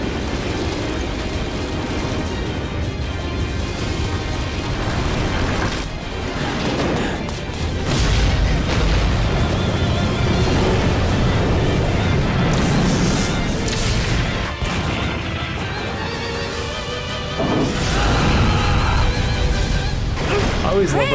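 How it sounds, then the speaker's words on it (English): Loud, dense in-game explosion in Resident Evil Code: Veronica X, a sustained rumbling blast with crashing debris layered over music and effects, swelling again near the end; a voice talks over part of it. "Because an explosion that close to you is definitely you're dead."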